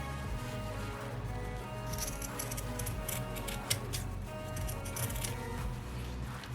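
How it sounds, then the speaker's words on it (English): Scissors trim fabric along the edge of zipper tape while a clutch wallet with directional fabric is being sewn, giving a faint series of crisp snips and light clicks over a low steady hum. "I'm just trimming it right along the edge of that zipper tape"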